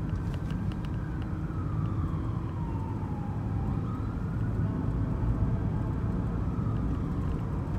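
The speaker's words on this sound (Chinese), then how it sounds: "救火车。" A fire engine siren wails past at a distance, its rising and falling tone sweeping down as it moves by beneath steady low traffic rumble, faint and continuous.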